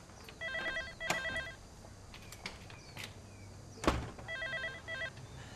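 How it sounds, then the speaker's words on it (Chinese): A mobile phone rings in two short patterned bursts of electronic tones, fairly faint, with soft footsteps and room noise between them. "我电话响了，不好意思。"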